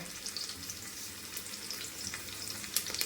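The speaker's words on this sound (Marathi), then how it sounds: "मोहरी टाकलेली आहे आणि मोहरी पण लगेच फ्राय होईल कारण आता ते तेल जास्त गरम झालेलं आहे" Mustard seeds and onion frying in very hot oil, a steady close sizzle with sharp crackles and pops throughout and a few louder spits near the end.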